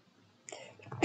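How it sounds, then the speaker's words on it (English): A single close, loud sneeze bursts out at the end after a brief indrawn breath, during casual commentary over a Rocket League match. "I gotta sneeze real quick."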